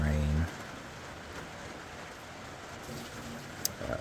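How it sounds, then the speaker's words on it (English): Pouring rain at dawn on New Zealand's Te Araroa Trail hisses as a steady, even wash after a brief opening sound, with a few faint drips near the end. "We are starting morning 19 off at the break of dawn in the pouring rain."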